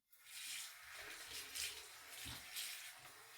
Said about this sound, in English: put a little bit of water on.